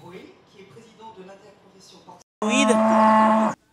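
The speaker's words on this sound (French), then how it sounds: "Des vaches élevées exclusivement pour la production d'une viande de très haute qualité, c'est la particularité de cette ferme." Cattle on a beef farm raised for high-quality meat give one loud, close, sustained moo after a stretch of quieter background talk and farm noise.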